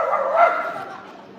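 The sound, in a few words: voice imitating a dog's sound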